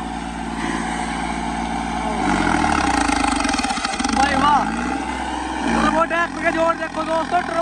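A 65 hp New Holland turbo tractor engine drones steadily while ploughing, its pitch shifting as it labors, with someone talking loudly over the noise.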